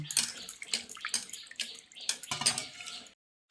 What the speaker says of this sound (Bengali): এবার আমি এই সজনের ডাঁটাগুলোকে ভালো করে জল দিয়ে ধুয়ে নিচ্ছি।